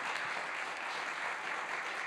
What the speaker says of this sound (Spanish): Ahora sí los invito a dar un aplauso a todos, por favor